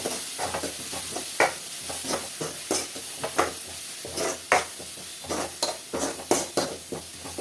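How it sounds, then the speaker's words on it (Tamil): Ginger garlic paste sautéing in oil for a mutton kulambu, with a steady sizzle and repeated sharp scrapes of a spoon stirring against the pan, close and fairly loud with no talking. "கொஞ்சம் எண்ணெயிலே வந்து இஞ்சி பூண்டு பேஸ்ட்டை நான் நல்லா வதக்கி விட்டுப்பேன்."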